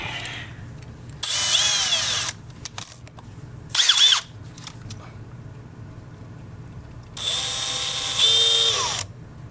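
A power drill bores holes into a pedal board in three separate bursts, each a loud whirring spin-up that winds down, with quieter pauses between.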